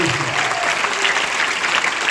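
Hearty audience applause at a company's 19th anniversary event, dense and steady clapping filling the whole stretch at even loudness, with no voice over it.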